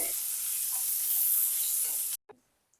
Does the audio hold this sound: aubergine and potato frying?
yes